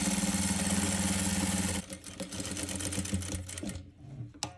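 A sewing machine stitches a velvet blouse with a steady, fast whirring run, then stops and gives way to scattered clicks and handling noises.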